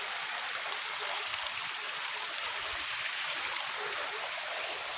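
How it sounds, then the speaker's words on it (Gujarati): Cold, fresh mountain water flows down from above on Girnar hill in a steady, dense rush that stays even and close throughout. "આ પાણી ઉપરથી હાલ્યું આવે કેટલું પાણી ખૂબ ઠંડુ અને પાછું મીઠું પાણી ઉપર પર્વત ઉપરથી ના આવે"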